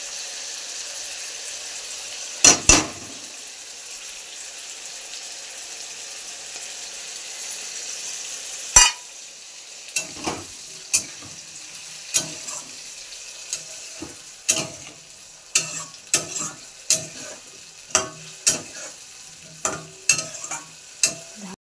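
Spiced masala is stirred into a sajna and paneer curry cooking in a pan, giving a faint simmer under a string of sharp spoon-on-pan clacks and scrapes that turn regular and rhythmic in the second half.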